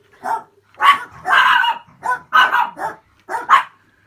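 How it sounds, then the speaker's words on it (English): Several dogs bark in a rapid run of loud, close yips and barks, bursts clustered with short gaps over a few seconds, with no talking. "that's my new dogs"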